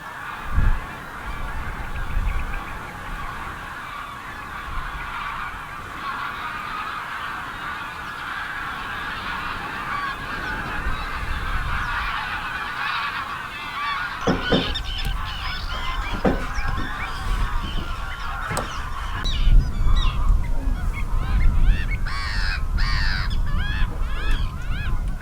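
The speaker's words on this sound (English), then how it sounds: "Loads of Canada geese, loads of grey lag geese." Large flock of Canada geese and greylag geese honking at a nature reserve marsh in July, a steady chorus of overlapping calls that grows louder and busier partway through as birds are flushed and take off.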